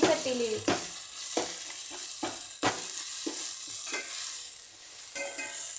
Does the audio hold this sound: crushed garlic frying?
yes